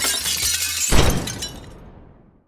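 Glass shatters from a punch in a TV show: a sharp crashing break near the start, then a bright tinkling spray of fragments that fades away over about a second, close and loud with no voices.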